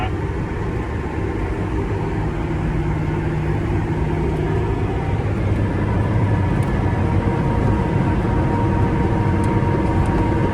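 A tractor engine works hard pulling a pull dozer with a serrated blade through dirt, a loud, steady low rumble that surges slightly as revs climb past 2,000 RPM, continuous with no talk.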